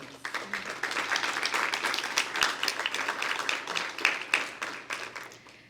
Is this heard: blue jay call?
no